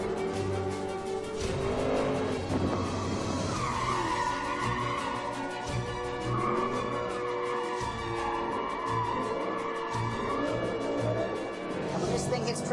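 A V8 car with a dual-clutch 7-speed gearbox is driven hard, its engine roaring loudly and continuously with tire squeal and shifting changes in pitch, and a voice talks over it.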